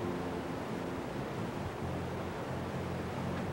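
Iguazu Falls, a massive waterfall plunging onto rocks far below, gives a steady, dense roar of crashing water that stays constant and loud throughout with no voices.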